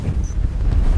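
Strong wind on a mountain during a whiteout in the Lakes, a loud, constant buffeting roar battering the microphone with no pause.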